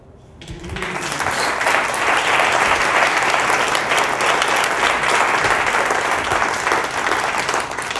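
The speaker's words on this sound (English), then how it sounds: "Thank you for that lovely applause." A theatre audience at a live card-trick performance breaks into loud, sustained applause that swells within the first second and holds steady, dense clapping to the end.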